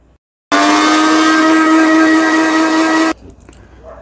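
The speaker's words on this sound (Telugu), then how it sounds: "ఇవంతా మిక్సీ పట్టాలి" Mixer grinder whirring as it grinds chutney ingredients, a loud, steady high-pitched motor whine that starts abruptly, runs for about three seconds and cuts off, followed by faint rattling.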